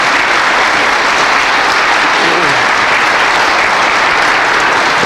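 Dense, sustained clapping from a large audience fills the whole stretch, loud and even with no pauses.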